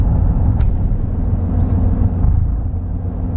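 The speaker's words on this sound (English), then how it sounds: "You guys can catch or hear any of that vibration. It seems to be right around 30 miles per hour." Cab interior of a lifted Toyota Tacoma pickup driving around 30 mph, a loud steady low rumble and drone of road and drivetrain vibration with no talking.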